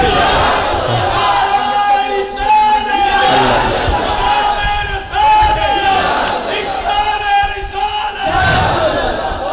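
A large crowd at a religious gathering shouts slogans in loud, rhythmic unison, roaring continuously with surges of massed voices, close and dense.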